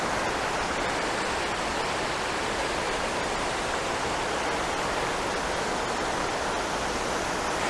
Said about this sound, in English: Looking great today, this waterfall.